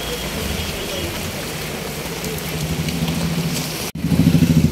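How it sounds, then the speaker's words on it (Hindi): Steady heavy monsoon rain in Mumbai under a red alert hisses continuously with a low rumble underneath, briefly cutting out before returning louder and denser. "हेवी रेन हो रही है मुंबई के अंदर"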